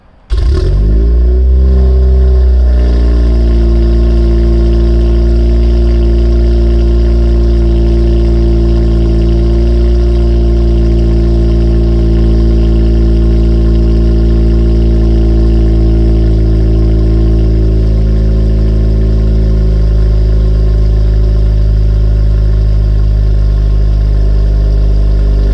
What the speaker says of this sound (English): Remark exhaust, catless downpipe.